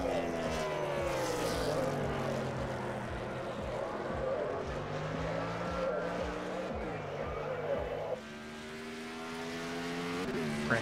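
A Spider-Man Toyota Camry race car runs at Road America in a Friday night main event, its engine droning loudly and continuously with shifting pitch. The announcer's commentary plays over it, and there is a brief dip near the end.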